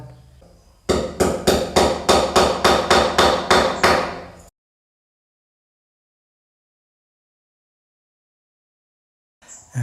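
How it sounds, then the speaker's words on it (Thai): Hammer driving the nails of cable clips into a storeroom wall while running electrical wiring: about a dozen sharp, evenly spaced close blows in a quick steady rhythm, followed by silence. "ทุกๆ 10 เซนนะครับ เพื่อจะได้ตีตะปูกิฟหนีบสายไฟนะครับ"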